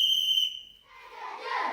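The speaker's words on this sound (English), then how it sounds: "the teachers blow a whistle instead of ringing a bell to summon the kids to class" A teacher blows a shrill whistle at a school at a river headwater, one sharp blast that ends abruptly, followed by a faint murmur of children's voices in the distance.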